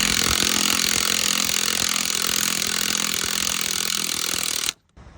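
An ALLOYMAN 20V cordless impact driver hammers loose a bolt in one loud, continuous burst of rapid mechanical rattling that cuts off abruptly near the end, leaving a brief silence.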